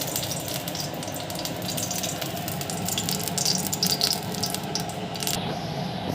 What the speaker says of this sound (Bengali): আমি কড়াইয়ে সর্ষের তেল প্রয়োজন মতো দিয়ে দিলাম